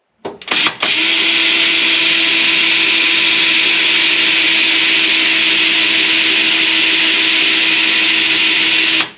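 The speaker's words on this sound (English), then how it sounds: "Drill it." A power drill bores into a 1940 Mercury car during a battery install. A couple of short stuttering bursts lead into a loud, steady, high whir that runs unbroken for about eight seconds, then stops.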